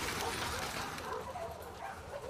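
A dog in the video game The Last of Us Part II gives short excited barks and yips, close and mid-loud, mixed with game ambience and someone talking over it.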